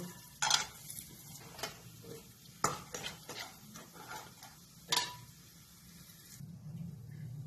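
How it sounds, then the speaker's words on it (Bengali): Cashews lightly frying in a pan, with soft sizzling under several sharp clinks and scrapes of a spatula stirring against the metal, close and fairly quiet, irregular in rhythm, with no voices. "কাজুটা একটু হালকা ফ্রাই করে নেব"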